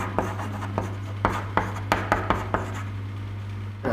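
Pen on paper while working vector maths problems, a series of short scratchy strokes in an irregular rhythm, close and moderately loud over a steady low hum.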